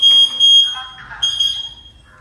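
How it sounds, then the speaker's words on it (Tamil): An Ajax smart home alarm set off by a door sensor sounds in short, loud, high electronic beeping bursts close by, with a brief pause between them. "இப்போ டோர் சென்சார் ட்ரிகரானே அலாரம் அடிக்குது"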